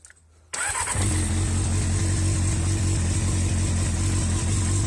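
Honda CBR 600 F3 motorcycle engine starting after warming up during carburetor synchronization, a short crank catching into a loud, steady, close idle with a rhythmic throb.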